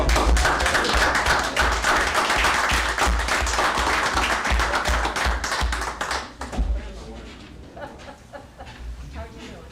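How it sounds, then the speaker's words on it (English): A room at a Port Allen city council meeting breaks into dense, loud applause for about six seconds, then it thins out and fades to scattered claps. "Let's give him a round of applause."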